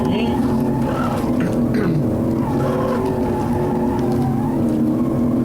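A car engine in the BeamNG.drive driving game accelerates with a continuous droning rev that rises in pitch, while someone talks over it throughout.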